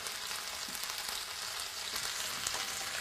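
Quail stuffed and searing in a hot pan give off a steady, dense sizzle and crackle that fills the whole stretch without a break, close and fairly loud, with no voices.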